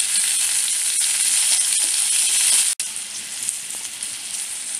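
Tomatoes tossed into browning onion and oil in a hot kadhai, a constant close sizzle broken by a brief sharp clunk midway before the frying hiss carries on, no talk.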